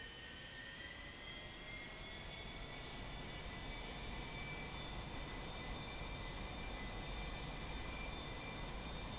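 An A-4 Skyhawk jet engine in a flight video game throttles up on grass, a steady, faint whining roar with rising tones that holds for several seconds without a break.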